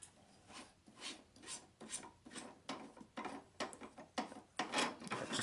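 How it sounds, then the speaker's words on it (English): Plastic parts of a Ghostbusters Afterlife proton pack toy being unscrewed, heard as a close series of short rasping, grinding scrapes in an uneven rhythm with no talking. "That just screws off."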